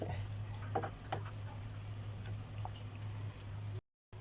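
A coconut milk adobo stew simmers quietly with soft bubbling pops and a faint steady hum in the background, close by, no voices.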